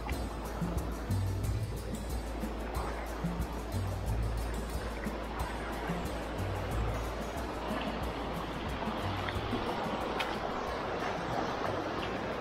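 The strong current of the Yaque del Norte river near Manabao, Jarabacoa, rushes in a continuous loud roar of churning water, close and steady throughout with no talk.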